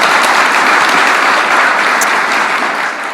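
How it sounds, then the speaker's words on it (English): Audience at a manufacturing summit applauds a speaker, dense, loud clapping from a crowd holding steady throughout and easing slightly at the close. "A round of applause for Jason."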